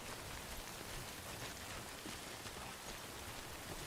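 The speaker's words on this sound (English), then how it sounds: "Get out of this rain." Steady, dense rain pours down throughout in the game Death Stranding, a constant hissing patter at moderate loudness with no voices.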